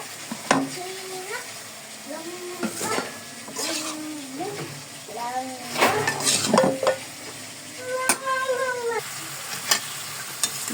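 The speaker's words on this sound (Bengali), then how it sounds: "আমার সবজিটা একদম ভাজা ভাজা করে রান্না করছি" Vegetables stir-fried in a pan give a steady frying sizzle with occasional stirring scrapes, overlaid by intermittent tonal calls that rise and fall throughout.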